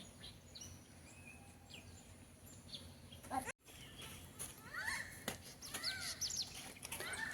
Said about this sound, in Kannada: ಹಕ್ಕಿ ಎಲ್ಲ ಕೂಗೋದು ಕೇಳ್ತಾ ಇರ್ಬೋದಲ್ಲ ಇದೆಲ್ಲ ಮನೆ ಸುತ್ತಮುತ್ತ ಕೂಗ್ತಾ ಉಂಟು